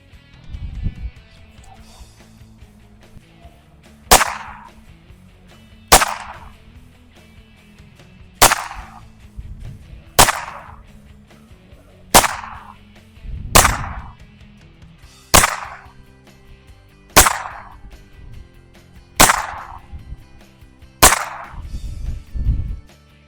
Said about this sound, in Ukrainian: Зараз будемо стріляти на дистанцію 2 та 5 метрів самозведенням.